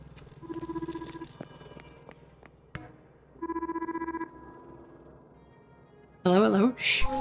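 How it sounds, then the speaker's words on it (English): A telephone rings twice in the sci-fi repair video game The Lift, two steady electronic trilling bursts separated by a pause, followed by a sharp warbling electronic tone. "I hear a phone ringing."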